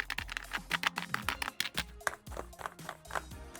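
A brush sweeps dust off a computer keyboard, with repeated scratchy strokes and light clicking taps of the keys in an uneven rhythm, close and fairly quiet.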